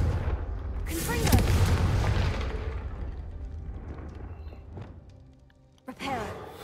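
A Confringo blasting spell goes off in Hogwarts Legacy: a loud booming blast with a rumbling tail that fades over several seconds, followed by a sharper second burst near the end.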